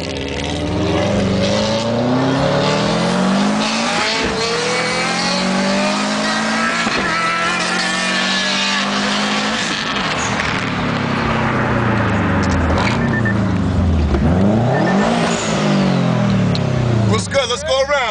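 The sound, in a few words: Subaru STI car revving while racing a motorcycle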